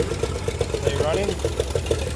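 A weak-carbureted 1968 Chevrolet Impala engine, long abandoned, runs roughly with an uneven pulsing rhythm, close and steady beneath background noise.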